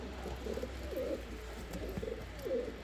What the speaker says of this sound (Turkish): Kuşları yakından çekiyorum bilerek arkadaşlar.